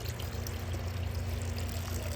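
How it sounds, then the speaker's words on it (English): Water poured from a container into a deer's bucket outdoors, a continuous close splashing stream that runs steadily the whole time with no talking. "Probably gonna give him a little bit more water now too in his bucket."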